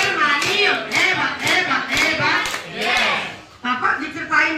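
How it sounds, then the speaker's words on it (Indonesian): An audience claps in short bursts of hand claps, close and moderately loud, mixed with voices talking over and between the bursts. "Tepuk tangan dulu."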